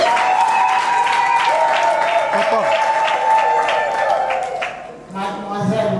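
Wedding guests at a civil ceremony break into applause, a steady burst of clapping that fades briefly near the end before picking up again, with a voice speaking over it.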